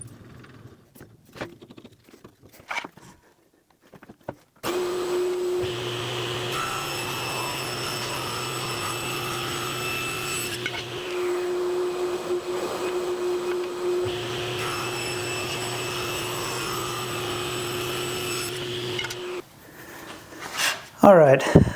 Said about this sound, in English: we're going to cut these 2 strips on the table saw